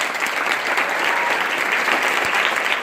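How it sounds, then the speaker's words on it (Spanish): Audience applause welcoming a speaker at a lecture on Baja California's revolutionary history, loud, dense and sustained clapping from a crowd for the whole stretch. "les pido que me acompañen con un fuerte aplauso"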